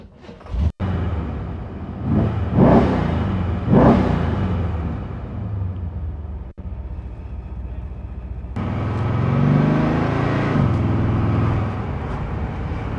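A supercharged 1978 Chevrolet Corvette pro touring car revs its engine, with two sharp throttle blips followed by a longer rising, rumbling exhaust pull, loud and close with no talking.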